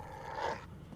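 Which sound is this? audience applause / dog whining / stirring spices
dog whining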